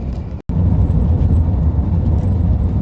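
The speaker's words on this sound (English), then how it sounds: "It's this sort of aggregate covered tarmac stuff, and although it's noisier than the previous tarmac" Steady, loud tyre roar and low rumble inside a Bentley on new Avon tyres, rolling over coarse aggregate-covered tarmac, with one brief dropout early on.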